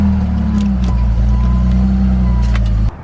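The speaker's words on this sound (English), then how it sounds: "Let's move the car back into the gravel so we don't mess up the tarp." A BMW E46 idles and creeps slowly onto gravel, its steady low engine drone loud and close, with light crunching and clicks on top before the sound drops off near the end.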